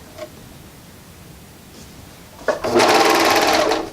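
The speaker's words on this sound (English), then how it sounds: "I'm just gonna sew with my serger from the bottom to the point" Serger stitching faux fur beanie crown pieces, starting after a quiet pause with a loud, rapid, steady mechanical whir that runs for just over a second.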